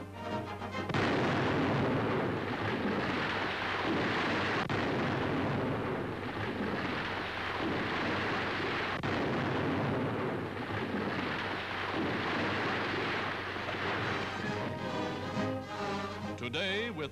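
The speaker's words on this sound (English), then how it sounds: "they're blasting a path through a wilderness never before conquered by man" Explosive blasting for building a military highway through untouched jungle wilderness in 1943 rumbles as a continuous heavy roar of booms in old newsreel sound, loud and sustained with sharper thuds breaking through.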